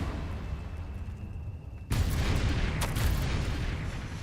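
A Confringo spell from Hogwarts Legacy erupts into a loud, sudden blast that holds as a sustained roaring burst, with a sharp crack partway through, following a quieter stretch of game ambience.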